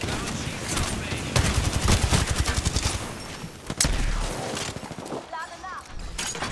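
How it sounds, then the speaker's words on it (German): Rapid automatic gunfire from an enemy clown shooting at the player in a video game, loud, dense bursts running almost throughout, with a brief heavy blast near the middle and speech faintly mixed in. "Diese Clown schießt auf mich."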